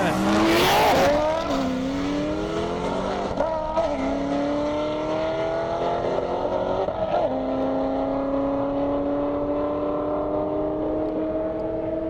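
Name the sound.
Corvette race cars racing on an airstrip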